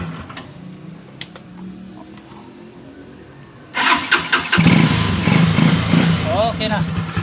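A Skygo 125 motorcycle with a fresh set of starter carbon brushes cranks on its electric starter and catches, its engine then running loud and close, revving and idling with a busy mechanical rattle.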